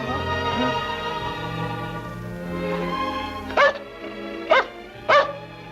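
Three short, sharp dog barks from a wet pet dog being called over, spaced about a second apart near the end, following several seconds of background music with faint voices.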